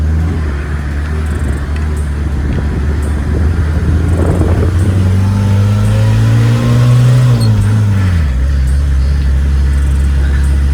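Camper van engine labouring up a steep road with sharp hairpin bends, a loud, close rumbling drone that rises in pitch as it revs, then drops sharply as the driver shifts gear.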